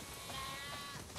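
Sheep on a farm in the video game The Last of Us Part 2 bleat over a steady ambient background, a wavering, drawn-out cry that is clear and fairly close, with no talking.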